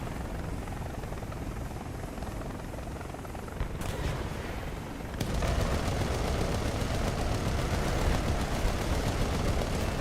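An AH-56 helicopter in War Thunder VR, with constant rotor and engine drone under a rapid rattling gun burst that kicks in midway and keeps firing steadily, loud and close, with no talk.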